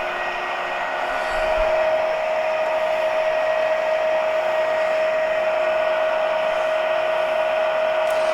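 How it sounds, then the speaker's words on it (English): A metal lathe runs with a steady, even mechanical whine and hum that holds its pitch from start to finish, with no voices over it. "I'll go ahead and stop the lathe again."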